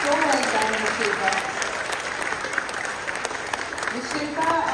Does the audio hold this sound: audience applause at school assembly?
yes